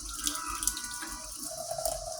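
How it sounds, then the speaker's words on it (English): Hot tap water runs steadily over a plastic doll's head held beneath the faucet, a continuous hissing splash with small shifts in tone as the head is turned. "hold this head under the hot water and break up that grime"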